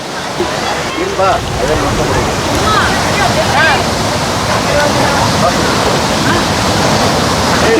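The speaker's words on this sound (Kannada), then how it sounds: "ಇದೊಂದು ಸಣ್ಣ ಫಾಲ್ಸು. ಆ ನೀರು ಇಲ್ಲಿಂದ ಹೋಗಿ" A small waterfall at Kallattigiri pours cold water over rocks in a steady, loud, broadband rush that never lets up, with faint voices of people nearby mixed into the flow.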